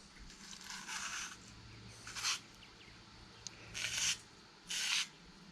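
A wire brush soaked with brake cleaner is pushed and twisted through a passage in a 360 engine block from a Ramcharger, making four short, close scrubbing bursts separated by quiet gaps.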